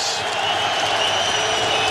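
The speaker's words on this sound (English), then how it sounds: "Crowd trying to encourage this Patriots defense that has not stopped the Bills" A stadium crowd at a 2006 Bills at Patriots NFL game cheers and roars to spur on the Patriots defense on third down; a steady, loud wash of crowd noise that holds level throughout, with no voice on top.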